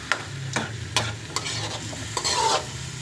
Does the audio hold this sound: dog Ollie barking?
no